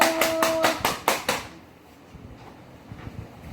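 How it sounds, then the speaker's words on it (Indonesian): An elementary classroom gives group 1 a round of applause: about seven quick, rhythmic unison claps close by, then the room settles into a low murmur. "tepuk tangan untuk kelompok 1"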